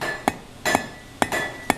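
Four sharp hammer blows strike hot steel on an anvil while a blacksmith forges a hook and flattens its upset corners. The blows are close and loud, spaced unevenly, and each one rings briefly with a metallic tone.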